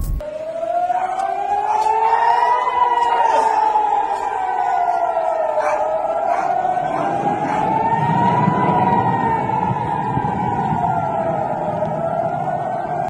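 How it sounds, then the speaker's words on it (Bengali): A loud, continuous air raid siren wailing, slowly rising and falling in pitch, sounding in border areas of north-west India, sustained for the whole stretch, with a low rumble creeping in partway through. "ভারতের একাধিক এলাকায় এয়ার রেড সাইরেন শোনা যায়"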